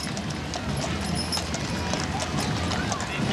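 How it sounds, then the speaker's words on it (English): Horses' hooves clip-clop in a steady rhythm at moderate distance during a Santa parade, blended with outdoor crowd noise and a voice speaking. "Look at those beautiful horses."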